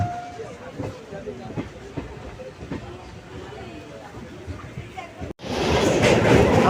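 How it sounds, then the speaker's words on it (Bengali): A passenger train bound for Rampurhat runs along the rails just after leaving the platform, with rhythmic wheel clacks and a rumbling carriage, then a sudden louder rush of wind and rattle near the end; voices may be mixed in faintly. "সঠিক টাইমে ট্রেন ছেড়ে দিয়েছে প্ল্যাটফর্ম থেকে।"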